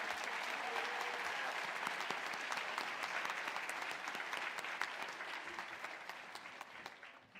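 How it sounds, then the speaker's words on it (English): Audience applause at a college commencement ceremony, a broad sustained clapping from a large crowd that stays even throughout and fades slightly at the end. "Please join me in a round of applause"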